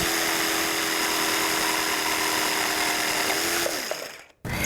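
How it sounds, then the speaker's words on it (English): A jigsaw cutting wood whines steadily at close range with a constant buzzing drone, then winds down and cuts off abruptly near the end. "cut it off with the jigsaw"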